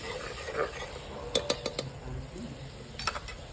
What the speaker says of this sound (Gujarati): હા હવે તેને સારી રીતે હલાવી લઈએ, મસાલો બળે નહીં એમ.